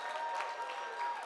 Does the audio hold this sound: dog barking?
no